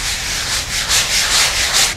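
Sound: hand sanding microcement with 80-grit sandpaper

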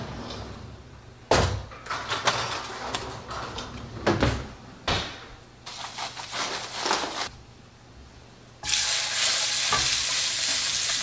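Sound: searing beef in a hot pan

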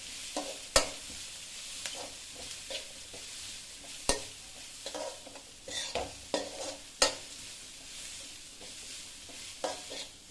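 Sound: stirring spinach stir-fry (cheera thoran) in pan

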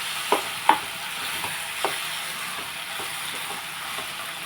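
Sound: potato tomato curry frying and being stirred in a pan

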